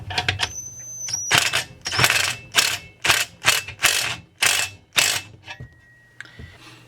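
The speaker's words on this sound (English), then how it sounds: "So let's hit this with the impact." An impact wrench hammers at screws on a Husqvarna 262XP chainsaw during dismantling, close and loud in about eight short rattling bursts separated by brief pauses, with faint ringing tones between them.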